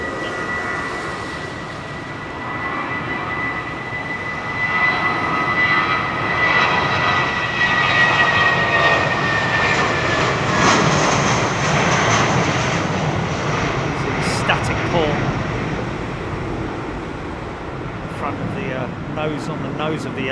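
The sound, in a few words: Airbus airliner at London Heathrow Airport in rain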